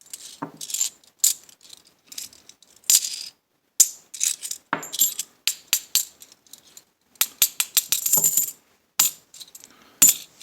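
A series of sharp metallic clinks and rings from a half dollar coin dropped and bouncing on a hard surface, repeated many times with brief silences between.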